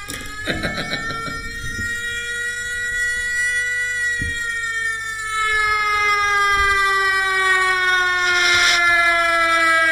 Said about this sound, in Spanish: Es el verdadero sonido de la sirena cuando llama a los bomberos.